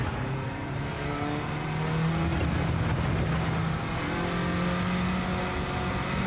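Race car engine in a racing video game played on a Fanatec GT DD Pro wheel, a steady loud droning hum that swells slightly midway and holds continuously, with no talking.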